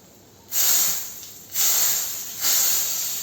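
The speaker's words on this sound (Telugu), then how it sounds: "పోపు వేగిపోయింది, పోపు వేసేస్తున్నాను నేను." Tempering (popu) for totakura pulusu, an amaranth-leaf tamarind stew, hits the hot pot in three loud hissing sizzles, each flaring sharply and then fading slowly.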